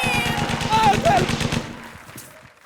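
Rapid machine-gun style gunfire in a comedy stage sketch, a fast rhythmic burst of shots with shouting voices over it, fading out toward the end.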